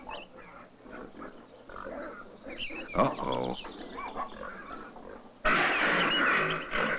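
Pigs root through a village garden in a medieval farm setting, grunting and squealing in uneven bursts that grow louder toward the end, while a person briefly speaks.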